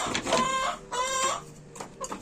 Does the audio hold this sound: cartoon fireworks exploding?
no